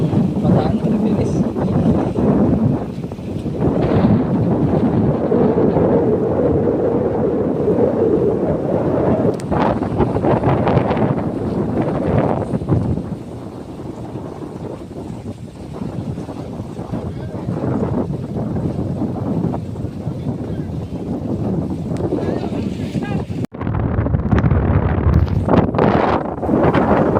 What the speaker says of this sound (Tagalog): Ramdam pa rin natin yung lakas ng hangin dito sa loob ng Bataan, Maribeles